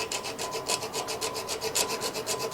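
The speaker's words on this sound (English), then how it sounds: "So we're going to take a file." A metal file rasps back and forth across the ignition points of a Briggs and Stratton engine, with rapid, even strokes repeating about six per second, close and steady, with no voices.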